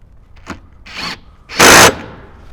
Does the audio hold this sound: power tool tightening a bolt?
yes